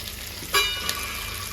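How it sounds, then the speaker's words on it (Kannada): Garlic dropped into hot oil in a pan for gongura gravy gives a sudden broadband sizzle with a brief stir, then a steady soft frying hiss throughout. "ಓಕೆ ಬೆಳ್ಳುಳ್ಳಿ ಹಾಕ್ತಾ ಇದ್ದೀನಿ"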